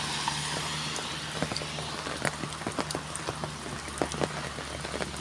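Rain falling in Ban Khok Sat village in Thailand, a steady wash of drops with scattered sharper taps on nearby surfaces and a low continuous hum underneath.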